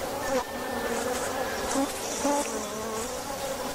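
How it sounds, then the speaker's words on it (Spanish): Honey bees buzz steadily around beehives in an open apiary, a dense continuous drone close by with individual bees passing near, and no talk over it. "De fondo se escuchan las abejas y el himno del apicultor."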